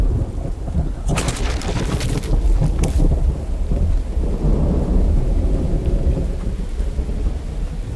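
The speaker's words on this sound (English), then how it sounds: "And there's the rain." Heavy rain and rolling thunder in the survival video game The Infected, with a loud sharp crack early on, then a steady dense downpour and low rumble continuing throughout.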